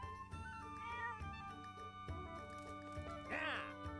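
A single short cat meow in The Legend of Zelda: Echoes of Wisdom rises near the end, over steady game music with chiming tones.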